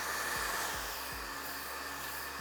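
A hair dryer blows steadily while fine hair is rolled around a round brush, a loud close whoosh with a few soft bumps as the brush moves.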